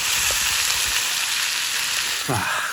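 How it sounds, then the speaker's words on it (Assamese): Roselle leaves poured into a pan of ginger and garlic frying in hot oil, giving a loud, close, continuous sizzle with a brief voice heard near the end. "এতিয়া এইখিনি মেষ্টা টেঙাখিনি ঢালি দিলে এনেকে"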